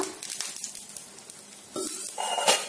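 A tomato omelette cooks in a lightly oiled pan under a lid, giving a close, crackling sizzle with a few metallic clinks and a louder burst of frying near the end.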